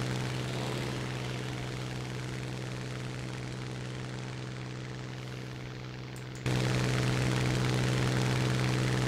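A propeller airplane engine drones steadily in a flight combat game, a constant low hum with strong tones that jumps louder near the end and runs on without talk.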